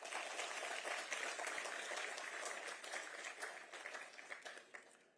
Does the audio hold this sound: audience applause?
yes